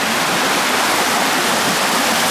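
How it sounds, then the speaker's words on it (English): A tiny waterfall in a narrow canal near Mt. Fuji's Five Lakes pours with a steady, close, full rushing hiss that never lets up. "Probably the smallest waterfall ever."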